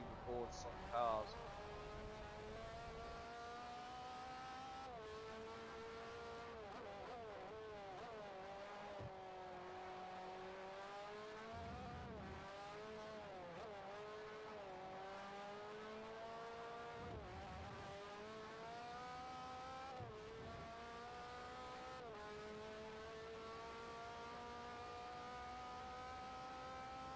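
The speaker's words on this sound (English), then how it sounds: "Car sounds like something from Project Cars" Simulated race car engines in Forza Motorsport 4 drone steadily, rising and falling in pitch as the car accelerates and shifts gears throughout, continuous and moderately loud with a voice talking faintly underneath.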